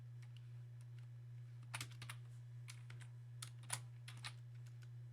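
Quiet, scattered keystrokes on a computer keyboard while equations are entered for graphing. The taps come in short irregular bursts over a steady low electrical hum, with no talking.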